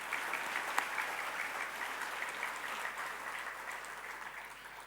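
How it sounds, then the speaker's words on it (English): Steady round of applause from an audience at the Jamnabai Narsee International School inauguration, dense and even throughout, moderately distant with no voices. "One more round of applause for him,"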